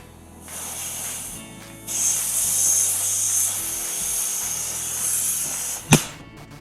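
A loud, steady rushing hiss of pressurized gas escaping from a mini-split air conditioner line in a converted school bus, lasting several seconds, then cutting off with a sharp pop near the end.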